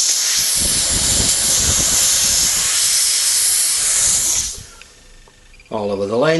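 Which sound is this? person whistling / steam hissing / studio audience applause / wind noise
steam hissing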